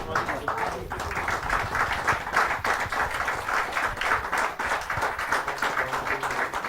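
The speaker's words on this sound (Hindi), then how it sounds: "आइए जोरदार तालियों से उनका" An audience at a Hindi poetry gathering applauds to welcome a poet to the stage, a moderate run of clapping of mixed density, partly blended with voices.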